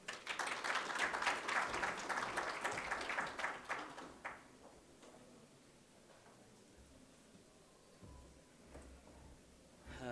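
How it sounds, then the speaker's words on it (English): Audience applause at a conference welcome and keynote session, a few seconds of moderate clapping that tapers off into room rustle and quiet. "Let's give him a round of applause."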